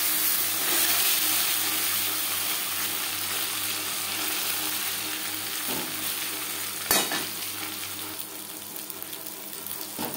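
Boal fish roe frying in a pan, a steady close sizzle running throughout, broken by a few soft clicks of a spatula against the pan.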